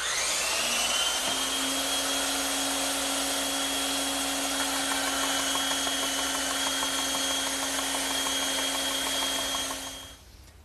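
A power saw runs steadily while cutting a heavy trestle table stretcher in a woodshop, its sustained whine carrying steady tonal hums for about ten seconds before cutting off abruptly, with no one talking.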